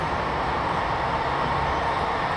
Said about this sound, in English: That's a noisy train.